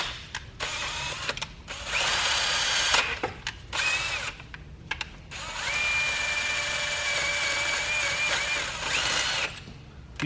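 A power drill bores a head stud hole in a BMW E36 M50 engine block, whining in several sustained bursts broken by short pauses, loud and close with a steady high-pitched tone while cutting.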